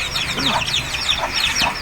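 A hen kept among pigeons clucks in quick, repeated bursts, close and clear, over a steady background hum.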